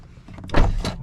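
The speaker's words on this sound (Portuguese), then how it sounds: "quando eu fecho a porta, vou fechar a porta" A Honda Civic hybrid car door swings shut with a single solid thump, followed by a softer second knock, heard close up inside the car with no talking.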